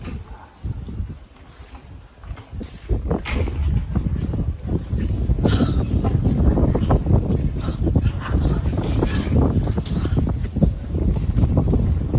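Strong, cold wind roars outside at Pilok's Itong village in Kanchanaburi, Thailand, as a broad, constant rush with gusty buffeting that grows louder after a few seconds, with a little talk underneath.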